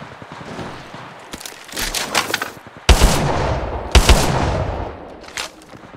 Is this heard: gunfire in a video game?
yes